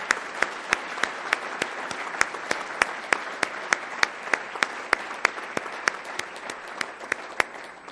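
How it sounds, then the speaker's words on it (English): An audience applauds for a group of students, sustained even clapping with sharp individual claps standing out, steady throughout and close, no voices over it. "So if you all will join me in a round of applause for all of the students."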